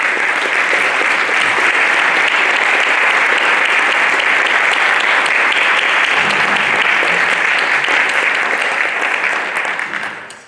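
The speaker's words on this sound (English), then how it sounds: "we really need to give all these folks a very large round of applause." A large school board audience applauds in a steady, dense wash of clapping that holds for about ten seconds before tapering at the end, with no talk over it.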